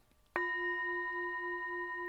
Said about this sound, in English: I want to hit my bell one more time here.